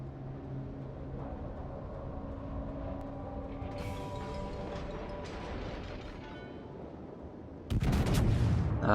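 Battleship guns firing in World of Warships from HMS Warspite, a low rumbling game soundscape with a sudden loud, heavy salvo blast near the end that stays booming to the close.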